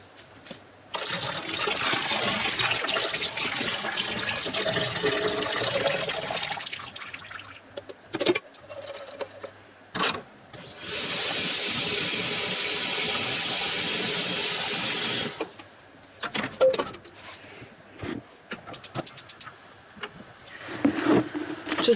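Boiled water from a pot of orange peels poured out into a kitchen sink: a steady loud hissing splash for several seconds, a pause with clatter, then a second long pour, followed by scattered clinks of the pot and dishes.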